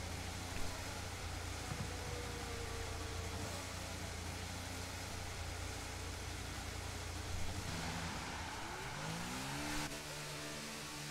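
An F2 race car engine in the F1 22 video game, at the Brazil track, drones steadily for several seconds, then revs and shifts near the end, loud and continuous with no talk.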